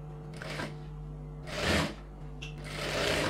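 A sewing machine stitches a folded pattu pavadai border in short bursts, a close whirring rattle over a steady motor hum, with three separate runs of stitching and no speech.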